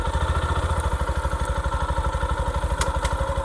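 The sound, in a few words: Yamaha FZ-S motorcycle engine starting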